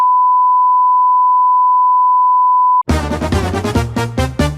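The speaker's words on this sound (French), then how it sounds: "je lis et je verrai si je bip pendant 2 minutes" A single steady censor beep, one unbroken pure tone held loud and alone for nearly three seconds before it cuts off abruptly into busy, dense sound.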